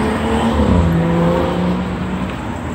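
A 2009 Volkswagen Rabbit engine runs smoothly at a steady idle, close and fairly loud, with a low even hum and no talking.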